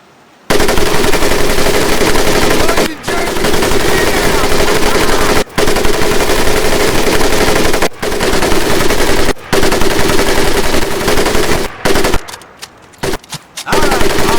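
A machine gun fires in long, loud sustained bursts during training in Medal of Honor: Pacific Assault, broken by brief pauses, before a few shorter bursts close out the stretch.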